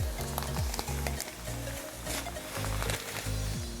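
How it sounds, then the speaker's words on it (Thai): Brown sugar is stirred into boiling water in a wide pan to make homemade molasses, with rhythmic scraping strokes roughly twice a second over a steady bubbling sizzle, close and fairly quiet. "หลังจากนะครับที่เรากวนให้ละลายแล้วก็ปล่อยให้เดือดนะครับ"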